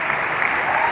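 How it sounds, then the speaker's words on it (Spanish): A church congregation claps loudly in praise, a dense, continuous wash of applause filling the room. "Dele ese aplauso fuerte"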